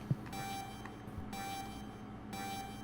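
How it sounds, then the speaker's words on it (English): An alarm beeps aboard a freighter spacecraft in a multiplayer space game: a steady, electronic, harmonic-rich tone repeats about once a second over low background rumble, with no talk. "kill the alarm"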